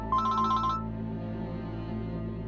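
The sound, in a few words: phone ringing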